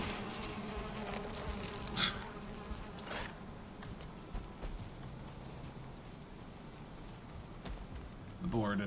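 Bees buzzing from a hive in the Valheim survival game, a steady insect drone running through the whole stretch with a few short clicks and bumps, while a person speaks over it.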